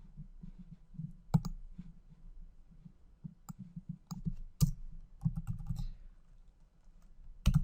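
Computer keyboard keys clicking at a steady, uneven typing rhythm, close and fairly quiet, with a few sharper keystrokes standing out and no talking.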